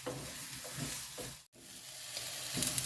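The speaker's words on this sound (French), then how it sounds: "Donc là je fais revenir au beurre les pommes" Apples sizzling in melted butter in a pan, a steady close frying hiss with soft stirring scrapes, briefly cutting out midway before resuming.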